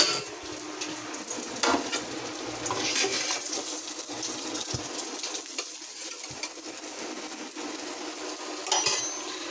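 Fish frying in oil in a home kitchen makes a soft, continuous sizzle, broken by faint clinks and scrapes of utensils against the pan.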